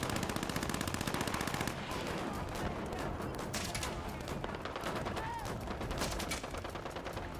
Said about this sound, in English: Heavy machine gun there